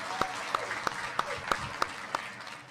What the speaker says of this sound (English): Let's give Chris and the entire culinary team a huge round of applause.